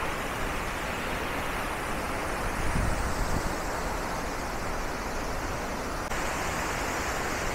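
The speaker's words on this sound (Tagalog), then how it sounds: "Wachiratan Waterfalls mga kabatchoy." Wachiratan waterfall in Doi Inthanon National Park, Thailand, roars with a dense, steady rush of falling water, loud and close, unbroken throughout with only a slight swell midway.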